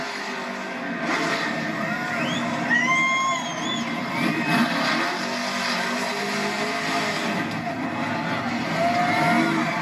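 Kyle Larson's No. 5 race car roars steadily as it spins donuts before the crowd after the 2021 Hollywood Casino 400. The engine sound is loud and continuous, with rising and falling whine tones and some voices in the background.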